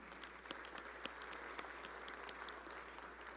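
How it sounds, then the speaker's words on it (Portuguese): A seated audience applauds at a ceremony honoring Galvão Bueno as an honorary citizen of Ceará, a quiet, steady wash of many hands clapping with a few sharper claps standing out, heard at a distance. "Palmas, então, para vocês."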